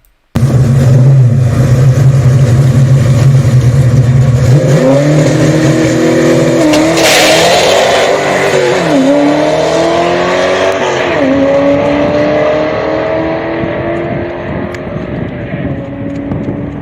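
A manual-transmission drag car on slicks launches hard, its engine droning at idle before roaring up through rapid rising sweeps as it shifts gears, loud and close, then fading away down the strip.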